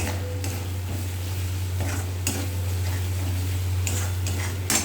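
Meat masala stirred and fried in a pan, a steady close sizzle with soft scraping stirs and a few brief clinks of the utensil against the pan, no voices.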